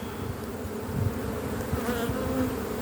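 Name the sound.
honeybee colony buzzing in open hive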